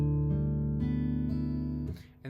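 Guitar in drop D tuning, a single strummed chord with sustained, ringing harmonic tones that decay, then a brief quieter strum near the end, heard alone.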